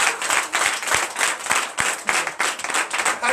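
A church congregation at a Sunday service in Benin claps in acclamation to Jesus, steady rapid applause from many hands with sharper individual claps standing out, filling the room without a break.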